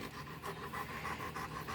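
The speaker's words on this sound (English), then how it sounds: "Distracting dogs." A dog pants rapidly in a steady rhythm of quick breaths, close by but soft, with no talking.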